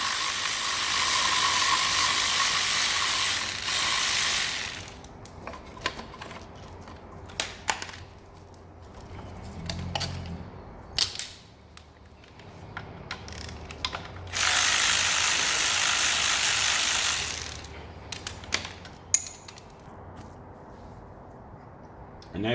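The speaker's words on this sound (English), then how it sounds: "we need a 12mm socket with an extension on it, so we can then get in to remove the three 12mm bolts on the end" A 12mm socket on an extension ratchets out bolts on an Alfa Romeo 159/Brera 2.4 engine. Short bursts of clicking and knocks come between long stretches of loud, broad rushing noise, with quieter gaps in between.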